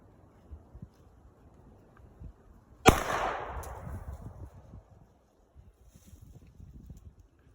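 A single sharp pistol shot rings out, Glock or Taurus, with a crack that decays over about a second in an otherwise quiet outdoor setting.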